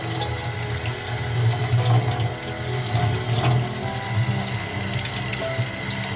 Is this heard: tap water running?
yes